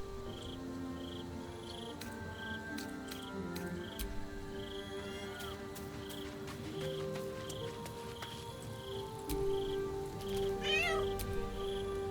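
A cat meows repeatedly in Baldur's Gate 3, set against the game's circus scene with ambient background music and tonal effects; the meows are fairly clear and mid-level, with a rising chirpy call near the end.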